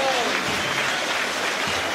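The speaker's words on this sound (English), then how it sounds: "Former Altrincham player receives a great round of applause." A football crowd applauds a substitute coming onto the pitch, a steady wash of clapping from the stands under faint commentary.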